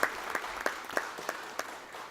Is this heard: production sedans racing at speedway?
no